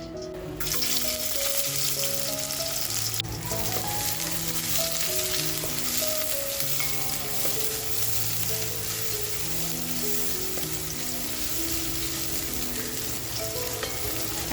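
Onion frying in oil in a large pot, a constant loud sizzle with stirring scrapes throughout, steady and close, while music plays underneath.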